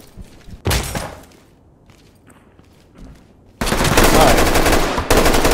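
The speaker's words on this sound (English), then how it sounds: "Shots fired." Gunfire in the tactical shooter Ready or Not: a short loud burst, a quiet pause with faint movement, then a sustained, harsh automatic volley close by, heard without speech.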